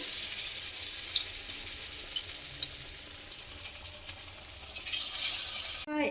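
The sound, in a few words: pumpkin leaf rolls frying in hot oil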